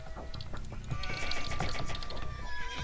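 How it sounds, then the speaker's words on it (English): Sheep bleating in Age of Empires II HD on a 4v4 Black Forest map, several overlapping calls in quick succession among game sound effects. "These are all my sheep."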